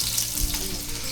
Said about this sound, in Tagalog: Yan, nagigisa na po. Nilagay na po ang bawang.